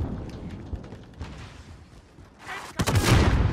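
Call of Duty Warzone gunfire starts as a low rumble of scattered distant shots, then grows into a louder, denser burst near the end.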